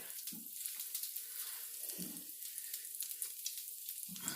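Frozen mozzarella cheese sticks lowered slowly into hot frying oil, making a soft, steady hiss with gentle bubbling and a few low thumps as each piece goes in, quiet and close with no talking.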